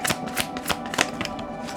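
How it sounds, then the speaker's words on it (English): Tarot cards being shuffled by hand, a run of papery riffling flicks and soft slaps in an irregular rhythm, close and fairly quiet, with no speech. "I'm trying to shuffle."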